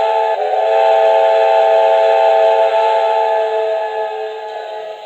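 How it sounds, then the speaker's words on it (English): A steady, loud steam whistle from an HO-scale model ATSF 4-8-4 Northern steam locomotive blows one long, sustained chord, fading slightly toward the end. "The whistle is very great, so let's hear that again."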